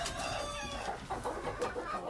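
A chicken clucks in a coop, close and fairly soft, with several short broken clucks over a steady low background.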